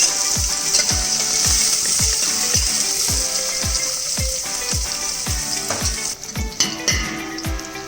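Cumin seeds, curry leaves, green chilies and sliced onions sizzle steadily in hot oil, a constant bright frying hiss punctuated by regular low knocks of a spoon against the pan.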